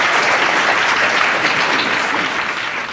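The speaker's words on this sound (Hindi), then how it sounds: "चलिए एक बार जोरदार तालियां हो जाए दर्शकों के लिए।" Loud, dense studio audience applause on a Hindi quiz show, a full crowd clapping continuously and energetically, tapering slightly toward the end.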